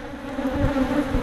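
A steady, droning buzz of many somewhat defensive honey bees around a hive during an inspection, a dense hum close by that swells slightly and holds for the whole moment.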